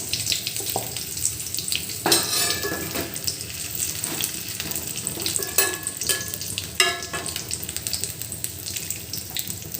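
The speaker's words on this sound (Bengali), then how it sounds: "এখন আমি গরম মশলাগুলো যেগুলো আস্ত সেগুলো দিয়ে দিলাম" Whole garam masala spices and cumin frying in hot oil, a steady bright sizzle with scattered stirring scrapes and clinks throughout, no talk.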